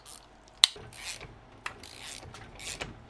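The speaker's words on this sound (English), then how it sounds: "I'm going to crank it over a few times and listen to it." Dry mechanical rasping and clicking as a Supermini engine is cranked over by hand, a sharp tick followed by several soft turning strokes, close up and quiet, with no talking.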